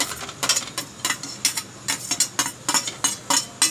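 A spoon mixes chopped carrot, tomato, onion and chilli for a sandwich filling in a bowl, making quick, repeated clinks and scrapes in a close, steady rhythm.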